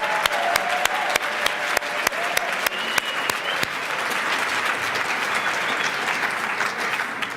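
A conference audience applauds warmly, a dense steady roar of many hands with a few sharp close claps standing out near the front.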